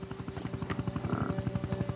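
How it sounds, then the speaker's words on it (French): A helicopter flies overhead during a military film scene, its rotor giving a steady, fast, rhythmic thumping that stays loud and even throughout. "Les mecs, regardez, il y a l'hélicoptère."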